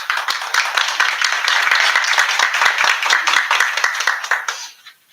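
Audience applause at a town council meeting: steady clapping from a roomful of people, sustained and fairly loud, then fading out near the end.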